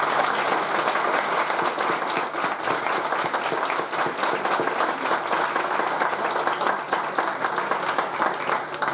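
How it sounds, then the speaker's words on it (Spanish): Audience at an orchestra presentation gives the teacher a loud, sustained round of applause, a dense even clatter of many hands continuing throughout without speech. "para quien pido un fuerte, fuerte aplauso."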